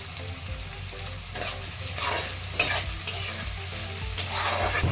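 Mustard seeds, cumin, chili and onion sizzle loudly in hot oil, a dense crackling hiss with scattered pops and stirring scrapes, close and continuous, with no talking.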